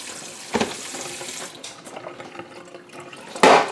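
Running tap water pours over potato chunks in a big colander as lemon juice and starch are rinsed off, a steady splashing stream with a louder burst near the end; no talking.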